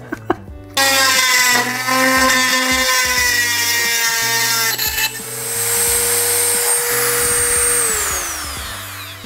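A power drill bores a hole in a garage, its motor whining loud and close in sustained bursts that shift pitch as the bit binds and then spins down.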